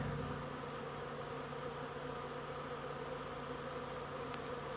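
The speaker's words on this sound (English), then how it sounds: "Now if I look up, there's still some bees up there." Honeybees swarm around the front of a bait trap box, a dense continuous buzzing drone that stays steady and even throughout, close and unbroken.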